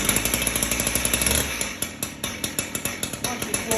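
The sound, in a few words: STIHL TS410 petrol disc cutter engine running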